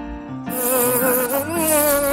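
A cartoon bee buzzes in a steady, tonal drone that wavers slightly in pitch, sounding close and continuous for a couple of seconds in a children's learning show.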